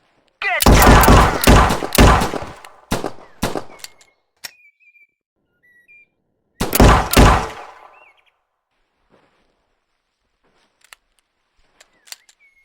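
Gunfire in the first-person shooter Narcotics Ops Command, with loud rapid bursts of automatic fire in the opening seconds, a few sharper single shots, then another heavy burst around the middle before the fighting fades to sparse faint clicks.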